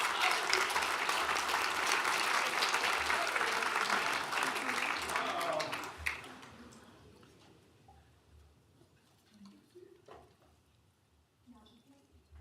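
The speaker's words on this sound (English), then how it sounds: "Let's give a big round of applause for our 25 years of service." Applause from the audience at a county board of supervisors meeting honoring 25 years of service, a dense, loud clapping that lasts about six seconds and then tapers off into scattered faint claps and room noise.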